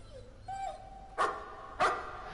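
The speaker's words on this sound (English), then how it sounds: "There's the dog!" Dog barking in the horror video game Layers of Fear: two sharp, loud barks about half a second apart, preceded by a thin whine, against a quiet eerie ambience.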